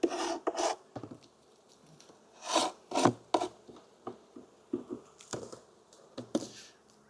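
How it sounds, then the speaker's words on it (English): A metal hive tool scrapes propolis off a wooden beehive box, giving repeated rasping strokes in irregular bursts, close and fairly loud, with no voices. "I'm just gonna scrape off some of this propolis so that we get it just a nice even"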